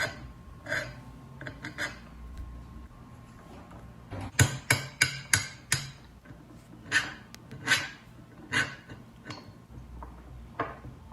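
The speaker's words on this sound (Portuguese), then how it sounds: "Primeiramente faremos um furo no centro da tampa do pote, onde colocaremos o tubo." Holes being made in a plastic jar lid, heard as a run of sharp, close taps and knocks, some in a quick burst of five or six, over a faint steady hum with no talking.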